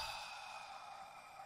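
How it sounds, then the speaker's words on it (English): A character in the music video game Incredibox Void breathes out in a long, soft, breathy sigh, faint and alone with nothing else audible. "That's just literally the dude breathing."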